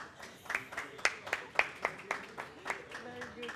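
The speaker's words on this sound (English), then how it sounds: "A round of applause to Alexander" A few sharp hand claps ring out in a quick, steady rhythm at a conference talk in Brazil, fairly close, with voices murmuring underneath.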